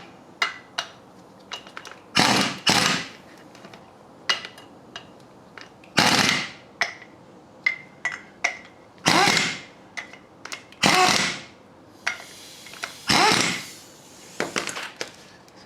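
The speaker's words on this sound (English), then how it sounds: "So I'll just snug these up and then torque them down to 65 foot-pounds like the manual says" Short bursts of ratcheting and power-tool whirring tighten brake caliper bolts on a 1991 Toyota pickup, coming in irregular close-up spurts with quieter clicks and pauses between them.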